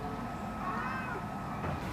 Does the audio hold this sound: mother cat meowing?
yes